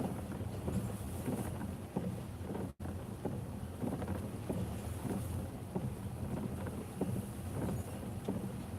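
Strong, steady hurricane wind roars and buffets the microphone without a break, with gusty surges and a single sharp dropout partway through; no voices.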